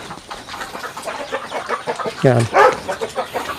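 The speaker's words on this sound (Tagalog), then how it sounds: "Ito naman yung mga native chicken, mga kanilang mga pugad." Native chickens cluck around their nesting boxes on a farm, a steady scatter of soft clucks with one louder squawk near the middle, heard under a man's speech.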